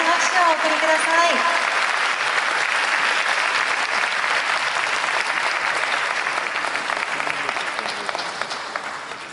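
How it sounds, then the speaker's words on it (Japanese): Sustained audience applause fills a large hall at a Japanese race queen grand prix award ceremony at Tokyo Auto Salon, a steady dense roar of clapping that slowly tapers toward the end. "皆さんの名前に温かい拍手をお送りください。"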